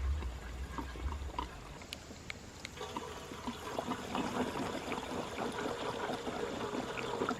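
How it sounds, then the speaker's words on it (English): Ethanol-free gasoline pours from a safety can into the tank of a Power Smart 4400-watt inverter generator, a soft continuous trickle and gurgle that grows slightly fuller as the tank fills. "As I'm filling up the tank,"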